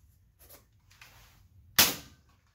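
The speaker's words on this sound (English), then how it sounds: "We'll start with the hot chuck, just shooting regular Adventure Force waffles because they seem to work the best." A Nerf blaster built from a brass pistol kit fires an Adventure Force waffle dart in one sharp, loud pop with a short decaying tail, preceded by faint handling noises.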